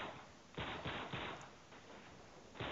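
Rapid gunfire in the Uncharted 3 video game: a string of sharp, evenly spaced bursts, close and fairly loud, separated by short gaps, with a final shot at the end.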